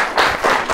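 Audience applause in a studio during a light entertainment show about a magic trick, a brief burst of clapping that swells and dips in a few waves over under a second.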